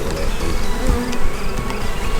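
Honey bees swarming around an opened second brood box, a dense continuous buzz of many wings close by, loud and steady with no voices.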